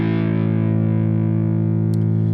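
A distorted electric guitar power chord rings out with the other strings muted, a thick sustained buzzing tone held steadily for a couple of seconds, alone and loud.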